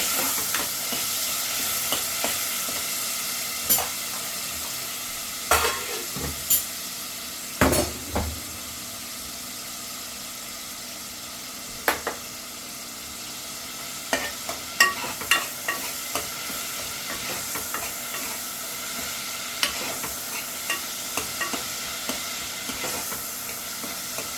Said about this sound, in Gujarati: કાંદાને થોડા ચડવા દઈએ